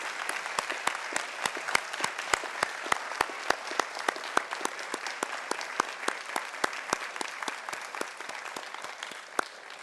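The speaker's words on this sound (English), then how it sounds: "Please, one more round of applause." Audience applause at a school district fall retirement ceremony, a steady, moderately distant patter of many hands clapping with sharp individual claps standing out, continuing evenly throughout.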